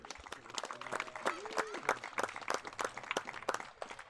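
Crowd at an outdoor Little League closing ceremony in a park claps for the league volunteers, scattered distinct hand claps heard faintly at a distance, with a few voices mixed in.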